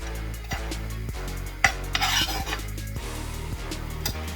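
Grated coconut and garlic are stirred and toasted in a pan for a chicken xacutti, with rhythmic scraping strokes of a utensil and a soft dry sizzle, close and steady.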